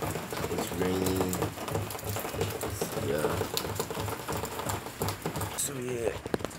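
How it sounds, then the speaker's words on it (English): Rain falls outside as a steady, dense patter and hiss, with a voice talking over it now and then. "right now it's like raining"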